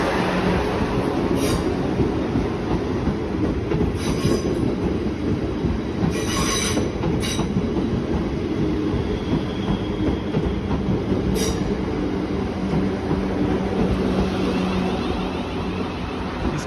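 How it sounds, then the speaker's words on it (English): A South Western Railway Class 444 electric train, unit 444-014 on the delayed London Waterloo to Weymouth service, passes close and loud with a sustained roar, rhythmic wheel clatter and occasional high squeals throughout. "here's the slightly delayed 13:40 South Western Railway service from London Waterloo to Weymouth"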